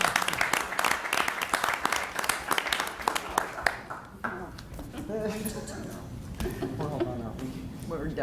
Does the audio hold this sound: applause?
yes